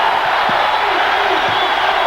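A packed arena crowd roars at a Kentucky versus Illinois basketball game, a dense, sustained wash of cheering and yelling with scattered whoops, loud and enveloping, with a commentator's voice faintly mixed in.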